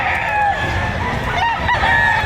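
Roosters crow repeatedly amid the din of a livestock auction market in Padre Garcia, Batangas, loud and close, with people talking in the background.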